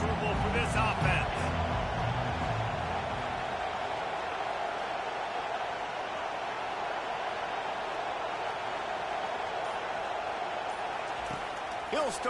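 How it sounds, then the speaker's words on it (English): Stadium crowd at an Iowa vs LSU college football game, a broad continuous roar of many voices held steady throughout, with a commentator talking over it. "This crowd trying to make life miserable for this offense"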